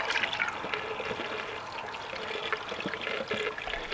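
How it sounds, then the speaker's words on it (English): Fuel pours steadily into a vehicle's tank at the pump, fitted to an L5P Duramax GMC Denali, making a continuous close-up rushing, gurgling liquid flow without pause. "Can't you hear it when you're like pumping fuel and it gets closer?"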